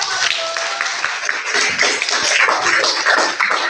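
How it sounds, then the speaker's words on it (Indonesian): A classroom of students at a junior high school claps together, a dense, steady patter of many hands filling the room at close range and holding at an even loudness throughout. "Tepuk tangan untuk kita."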